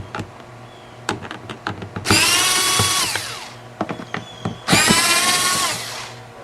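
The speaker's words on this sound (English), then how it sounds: "it gets caught up inside there too if you use a power screwdriver." Power screwdriver backing screws out of a 1995–2003 Nissan Maxima evaporator box: two loud, sustained whirring bursts, each about a second long, set among sharp clicks and rattles of handling nearby.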